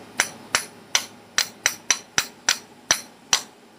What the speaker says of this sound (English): I need to flatten it out because on the saw, on the stud, it has the washer.